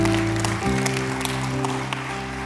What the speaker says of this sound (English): Can we give God a hand clap for all of those hands?